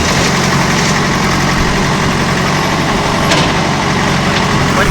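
A tractor engine runs while partly overheated during summer hauling work. A loud, steady, low-pitched drone with a faint vibrating rattle continues without a break.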